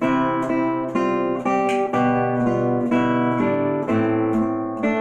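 Guitar plays a Beethoven theme over chordal accompaniment, notes plucked together in a steady rhythm, full and close with ringing bass tones.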